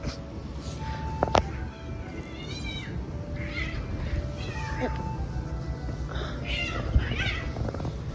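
Street cats in Split, Croatia, meowing and letting out scrappy yowls as they squabble, several cries scattered over steady outdoor background while people talk nearby.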